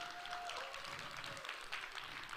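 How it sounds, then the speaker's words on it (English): An audience at a Dreamers Academy event gives a round of applause, a faint, even wash of many hands clapping that sounds somewhat distant and keeps going for a couple of seconds. "How about a big round of applause?"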